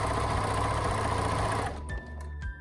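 A sewing machine hums and stitches steadily while sewing a fabric pencil wrap case, then slows and stops near a corner, followed by a few soft mechanical clicks as the fabric is turned.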